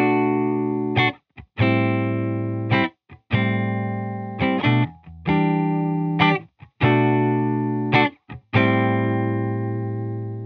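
Distorted electric guitar chords from a Psych Guitars OH-19 through a BSRI Audio TFZ pedal into a 1967 Fender Bassman, played loud in short bursts with brief gaps, each chord ringing with a buzzy, saturated tone.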